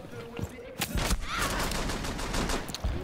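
Muffled gunfire comes through a wall in Rainbow Six Siege, with a cluster of sharp shots mixed into dense game noise, loud and close over about three seconds.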